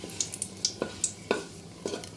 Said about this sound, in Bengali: এখন এর মধ্যে দিয়ে দিচ্ছি 2টো তেজপাতা, 2টো শুকনো লঙ্কা আর 1 টুকরো দালচিনি। এগুলোকে তেলেতে একটু ভেজে নিচ্ছি।